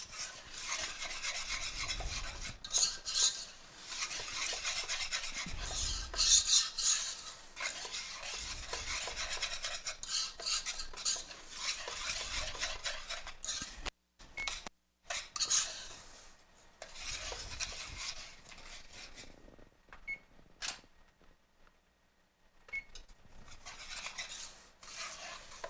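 A spoon stirs a brown sugar mixture for coconut cookie bars in a bowl, making repeated rasping scrapes in bursts with a few short pauses.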